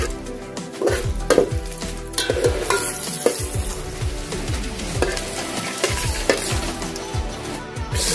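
Chopped onion fries in hot oil during an outdoor meal at Nimgiri fort, a dense crackling sizzle with frequent spatula scrapes and metallic clanks at an uneven rhythm.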